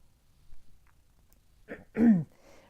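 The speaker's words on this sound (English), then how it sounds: "I'm sorry to keep clearing my throat." A person clears their throat with a short rough rasp, then a louder, harsher hack, close by in a quiet room.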